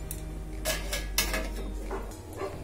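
A lid set onto a pot of boiled water and flour for Maharashtrian patole: several close metallic clanks and clinks over a low steady hum, no talking.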